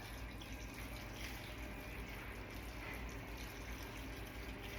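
Sugar syrup mixture poured over a blueberry cobbler, a steady continuous splashing pour with even loudness throughout, close up and without talking.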